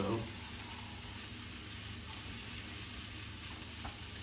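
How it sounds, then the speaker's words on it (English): An egg fries in a pan for chicken fried rice, giving a soft, steady sizzle with faint stirring noises, quiet and close, behind a voice speaking. "just start cooking that egg."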